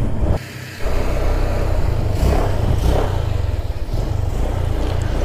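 Stock motorcycle engine revving during a slow wheelie: a loud, throaty engine note that dips briefly, then surges with repeated throttle pumps, close by and alone.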